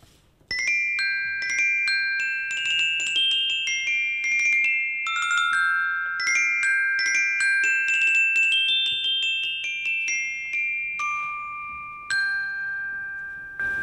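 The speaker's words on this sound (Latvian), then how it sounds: "Man tauriņi asociējās ar zvaniņiem, un es jums varu nospēlēt" Small bells ring out a bright melody, one clear note after another with lingering ringing tones, played alone with no voices.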